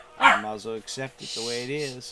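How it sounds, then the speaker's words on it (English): A dog barks several times in quick, uneven bursts close by while a person talks over the barking. "That's the dog barking."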